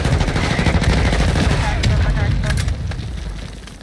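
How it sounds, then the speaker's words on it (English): Gunfire in the video game Warzone on the Vondel map, a dense rattle of rapid automatic shots and booms that fades slightly toward the end, with players talking over it. "Got people shooting at us from this building"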